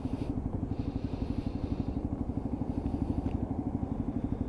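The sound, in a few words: Lexmoto Assault motorcycle braking with clutch in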